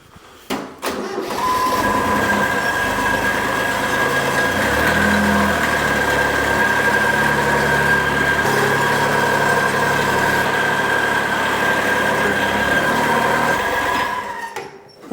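A 40-year-old tractor engine starts with a couple of cranking bursts, then runs at a steady mid-pitched idle and rumble while the machine creeps onto a plastic sheet indoors, cutting off at the end.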